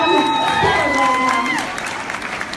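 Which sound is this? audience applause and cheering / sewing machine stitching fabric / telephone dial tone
audience applause and cheering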